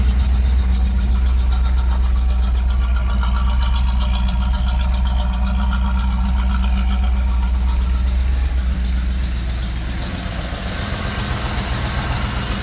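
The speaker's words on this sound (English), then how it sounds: "And it sounds like a misfire." A 1991 Chevrolet Camaro Z28 1LE V8 idles with a misfire, a loud, close, uneven low rumble that runs steadily and then dips slightly near the end, with no talk.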